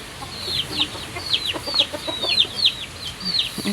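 Chickens in a coop, a run of repeated clucks and short chirping calls close by over a low background murmur.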